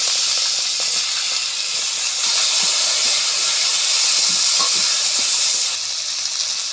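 Tomato dropped into a hot pan of ginger and onion for an omelette dish, giving a loud, steady broadband sizzle and hiss that runs the whole time, with a few faint clinks of utensils and no talk.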